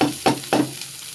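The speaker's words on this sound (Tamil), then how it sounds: "நல்லா வதக்கணும்" Chopped shallots sautéing in a pan, three sharp stir-scrapes a quarter-second apart over a steady soft sizzle, close and fairly loud, no voices.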